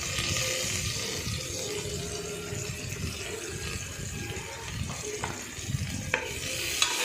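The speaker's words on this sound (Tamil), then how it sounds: "இப்போ அந்த வெங்காயம் கட் பண்ண வெங்காயத்தை தூக்கி அதில் போடுறேன்" Chopped onions sauté in a pan for goat trotter paya, giving a continuous close sizzle broken by stirring scrapes and a few sharp clinks near the end.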